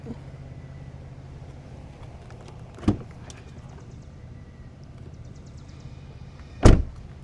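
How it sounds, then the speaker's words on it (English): A car door being opened, recorded outdoors while filming driving shots: two sharp, loud clunks about four seconds apart over a low, steady background rumble. "get a shot of me opening the door"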